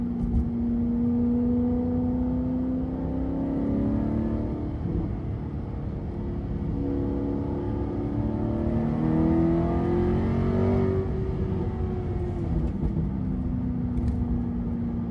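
An Alfa Romeo 8C Competizione engine revs loudly and continuously up close, its tone rising and falling through several pulls with a deep, rumbling growl and no talking.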